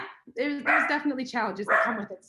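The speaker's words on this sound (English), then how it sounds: "The West Highland Terrier." A West Highland Terrier gives a few short yappy barks and whines, mixed in with a person talking close by.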